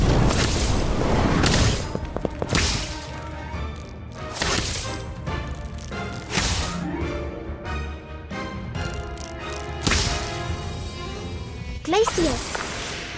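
An Incendio fire spell is cast in the Harry Potter Magic Awakened video game, producing loud repeated bursts, booms and whooshing crashes, with in-game voices in between.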